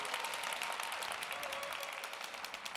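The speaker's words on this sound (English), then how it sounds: "could we give him a huge round of applause?" Audience applause fills the room, a dense, steady wash of many hands clapping at moderate loudness for the whole stretch, with no talk over it.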